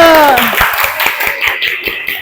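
A voice trails off, then a short burst of hand clapping follows in a classroom lesson, close and lively, a few people clapping unevenly for a couple of seconds.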